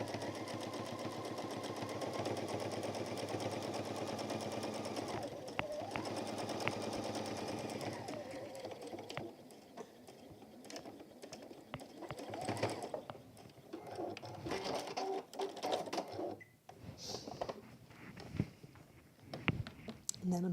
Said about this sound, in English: I'm just going to sew through that centre line